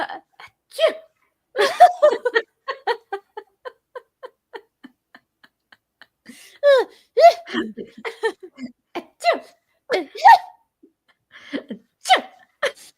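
A voice imitates a series of small, quick sneezes, short clipped bursts spaced out and stifled, with a few louder ones mixed in.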